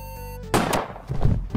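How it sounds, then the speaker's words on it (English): A sharp, punchy gunshot bursts in over a quiet tonal game background, followed by a second rougher impact a moment later. "Gunshot."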